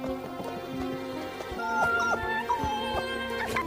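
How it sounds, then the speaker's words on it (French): Newborn puppies in a Simpsons cartoon scene give high, thin whimpers and yips in short overlapping bursts, over a busy background of cartoon sound and music. "Le chien de la famille Simpson a donné naissance à 25 chiots."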